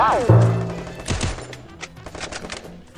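A UMG gun fires in a video game: a sharp shot opens, then quick bursts of gunfire follow amid a busy mix of game sounds, with a voice talking over it.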